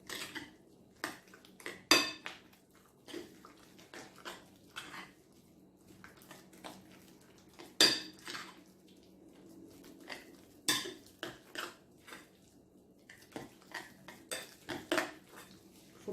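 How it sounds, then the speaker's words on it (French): Tuna and potato filling mixed in a dish, with irregular clinks and scrapes of a utensil against the bowl, some sharp and some soft, close up over a quiet background and no voice. "Regardez, je mélange tout."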